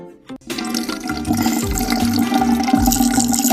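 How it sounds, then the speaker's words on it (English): After a brief clunk, liquid pours out in a steady, splashing gush that continues loudly to the end. "Let me pour this out here."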